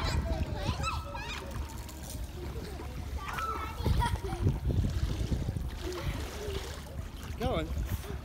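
Small child swimming in the deep end of a pool, with steady near splashing and water sloshing throughout while adults and someone talk and call out encouragement over it.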